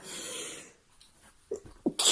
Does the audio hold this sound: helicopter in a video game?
no